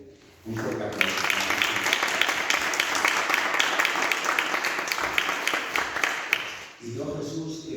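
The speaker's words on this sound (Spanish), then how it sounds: "ya te pido un fuerte aplauso para él, por favor, que se lo merece" An audience at a book presentation breaks into loud, sustained applause, the dense clapping lasting around six seconds before fading, with a voice speaking at the start and end.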